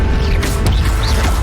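A Levioso levitation spell cast in the Hogwarts Legacy video game on PS5, heard as a dense mechanical whoosh and clatter with a sharp crack midway, loud and continuous over a low rumbling game soundscape, with no talking.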